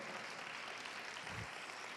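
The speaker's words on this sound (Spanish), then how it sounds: "Le dan un aplauso de verdad al Señor." A church congregation breaks into applause for the Lord, a dense, even wash of many hands clapping together, sustained throughout and heard from some distance.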